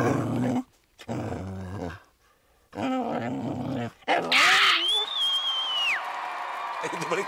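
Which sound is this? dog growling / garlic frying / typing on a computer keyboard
dog growling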